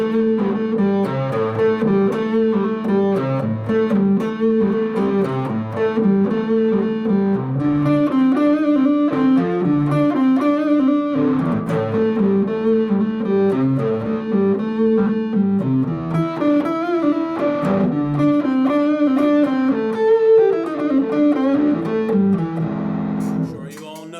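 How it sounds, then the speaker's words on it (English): Blues electric guitar played through a distortion pedal, a straight eighth-note riff with thick overdriven tone, loud and continuous for the whole stretch with no talking. "I'll turn on my distortion pedal so we get the real feeling."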